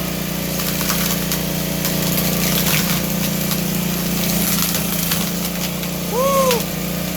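A log splitter's engine drones steadily while splitting wood, with a constant low hum and faint clatter, then a brief rising-and-falling squeal near the end as the load briefly increases.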